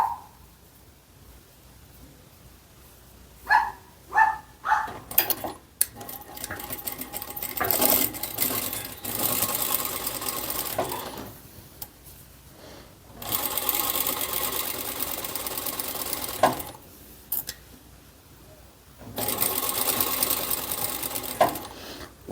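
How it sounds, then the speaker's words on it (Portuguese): A sewing machine stitches a seam on knit fabric, starting with a few short taps and then running in several sustained buzzing stretches separated by pauses, close and clear. "E agora eu vou passar a costura desse lado."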